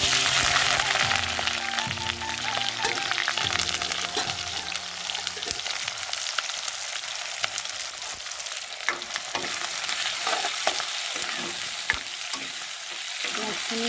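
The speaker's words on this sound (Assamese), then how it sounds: "পিঁয়াজখিনি ৰঙা হোৱালৈকে ভাজি থাকিম" Onions sizzling and crackling in oil in a kerahi pan, a continuous loud frying hiss broken by scattered pops and occasional stirring scrapes, with no voices.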